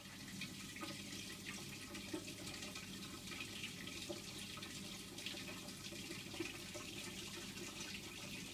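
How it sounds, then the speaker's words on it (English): A Hotpoint washing machine drains water in a steady, faint gurgling rush with light splashing, continuous and unbroken throughout. "it's draining some of the water"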